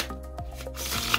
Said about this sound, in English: whilst you're shuffling the cards